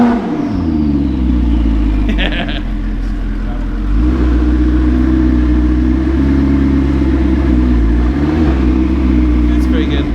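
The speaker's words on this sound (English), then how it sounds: "That sounds pretty good. I love the turbo noise." A used turbocharged supercar engine revs loudly and close by in repeated mid-pitched pulls, with turbo whoosh and exhaust roar; voices talk over it at times.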